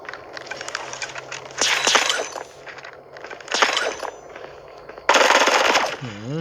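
Gunfire in the mobile shooter Bullet Echo, with loud, sharp bursts of rapid shots in several clusters, the last burst the strongest, and no voices heard.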